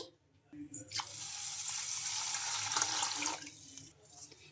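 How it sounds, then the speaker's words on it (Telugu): Clean water poured into a bowl of washed sago pearls to soak them for dosa batter, a steady splashing pour of about three seconds, close and fairly loud, with softer handling sounds before and after. "ఇందులోకి మునిగే వరకు అయితే మంచి నీళ్ళు అయితే వేసుకోవాలి"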